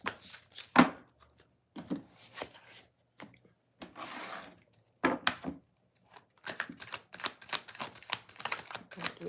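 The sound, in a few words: shuffling tarot cards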